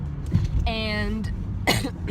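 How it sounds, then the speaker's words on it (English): A person gives a single harsh cough with a throat-clearing quality, close and fairly quiet, followed by a short second burst near the end. "my cough has not gotten any better"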